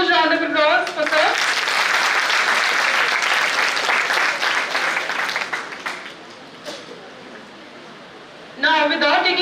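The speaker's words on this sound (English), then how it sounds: "A huge round of applause for sir." A seminar audience breaks into loud, dense applause for a speaker, the clapping swelling and then thinning to scattered claps before it fades. A voice speaks briefly at the start and again at the end.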